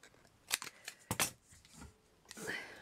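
Scissors trim small paper strips for a vintage carousel craft, a few quick close snips in short bursts with soft rustling of paper in between.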